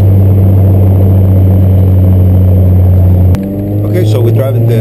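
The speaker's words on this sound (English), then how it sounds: "we're driving the Special Force Turbo" Special Force Turbo car driving on a street between stoplights, its engine a steady low drone heard from inside that drops and shifts in pitch near the end, with talking over it.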